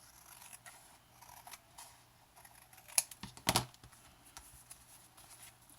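Scissors trim paper edges wrapped with washi tape while stamp storage folder pages are being assembled, giving a few soft snips and a louder cluster of cuts close by, with light paper handling and no talk.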